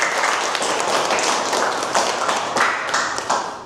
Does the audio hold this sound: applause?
yes